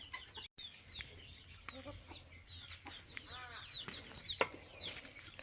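Chickens forage outdoors at a permaculture homestead, giving soft, scattered clucks and chirpy calls at moderate distance over a faint background, with no one speaking.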